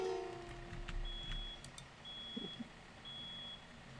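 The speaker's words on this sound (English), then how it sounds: "Fire alarm goes off." A fire alarm goes off with three evenly spaced, high electronic beeps, each about half a second long, sounding clearly over a low, steady background rumble.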